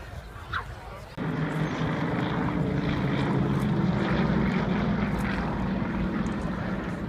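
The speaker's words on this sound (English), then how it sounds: "the solo aircraft heads back in, climbs up into the smoke trails left by the other aircraft" A propeller aerobatic display aircraft at the Farnborough air show, its engine droning loudly and steadily after a sudden rise, a sustained roar as it passes close overhead.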